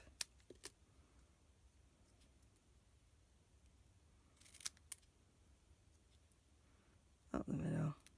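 Scissors snip through card stock during birthday card making, a few quick crisp cuts scattered across a quiet room, with one louder burst near the end.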